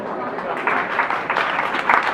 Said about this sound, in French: j'aimerais quelques applaudissements nourris qui la remercieront de la semaine que nous allons passer ensemble pour Laurence Davot